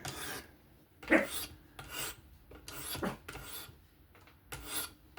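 A few separate rasping strokes of a folding knife blade drawn across a Work Sharp Professional Adjust sharpener, each a short one-way scraping sweep with pauses between, close and moderately loud.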